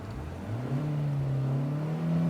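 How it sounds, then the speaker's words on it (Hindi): A 2023 Kia Seltos turbo engine revs up from idle to a steadily rising, sustained drone over about two seconds, close and moderately loud with rain audible. "इंजन को एक बार रेव करके सुनिए"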